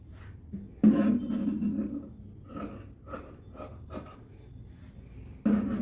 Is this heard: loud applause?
no